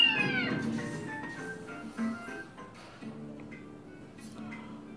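A cat in the Naruto Storm video game meows and caterwauls in long, wavering cries close by. Brief game sounds and a faint voice run underneath the meowing.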